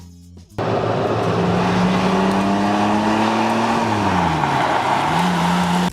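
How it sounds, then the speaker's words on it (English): A Lamborghini Countach engine revs loud and close, its pitch climbing and falling in drawn-out sweeps for several seconds after a sudden start, with no talk over it. "Lamborghini Countach."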